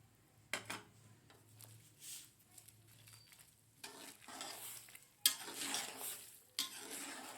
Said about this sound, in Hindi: ऐसे इसको चम्मच के साथ हिला देना अच्छी तरह से